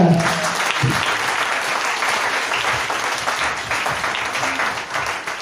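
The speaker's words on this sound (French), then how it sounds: "Est-ce que tu peux acclamer le Seigneur?" A church congregation breaks into loud, sustained applause that fills the room steadily from start to finish, with a brief burst of voices near the beginning.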